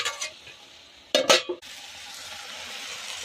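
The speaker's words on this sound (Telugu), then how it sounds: "వేగిపోతూ ఉంటుంది ఇట్లా తిప్పుతూ ఉంటే." Fenugreek leaves and green pigeon peas fry in a pan while being stirred: a few close scraping strokes and a short clatter, then a steady, gentle sizzle.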